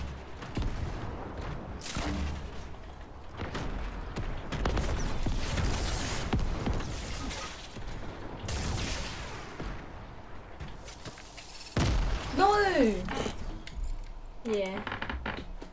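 Grenades explode in the video game Fortnite, several booming blasts and rumbling impacts spread across about fifteen seconds, mixed with clattering mechanical sounds, while people talk.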